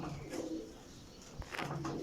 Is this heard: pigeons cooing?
yes